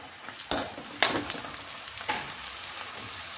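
Onions with ginger-garlic paste frying in a pan for a mixed vegetable dish, giving a steady soft sizzle with a few sharper stirring crackles, close and alone.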